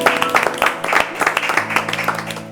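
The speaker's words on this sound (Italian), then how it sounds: "Grazie per questo applauso." A studio audience applauds on a Sicilian broadcast, a dense patter of hand claps at moderate distance with a low tonal hum underneath, brief and steady.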